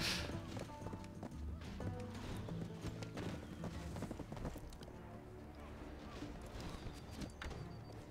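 A horse gallops in the video game Black Desert during a race, with rapid, continuous hoofbeats close by under layered game sounds and occasional whinnies.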